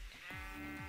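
Two quick sheep bleats from the video game Minecraft, close and fairly faint, the second following shortly after the first over a soft background hum.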